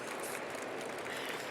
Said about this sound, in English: give it a good round of applause